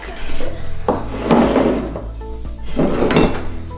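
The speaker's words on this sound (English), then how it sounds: "Now we're gonna mix it with our spoon." Scraping and clunking of a spoon working through a thick playdough mixture made with boiling water in a bowl, in several rubbing bursts with brief pauses between them.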